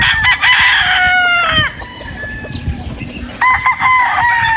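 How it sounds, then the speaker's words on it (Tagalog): A pure Boston Roundhead rooster, a broodstag, crows loudly and close by, twice, the first crow cutting off sharply and a second starting after a short lull filled with faint farmyard sounds. No voices are heard. "another uh, pure Boston Roundhead po mga boss ayan po siya mga boss"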